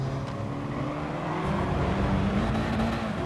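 A race car in GT Sport overtakes at Monza, engine droning steadily and rising in pitch as it pulls past, with other car engines blending underneath at a moderate level throughout.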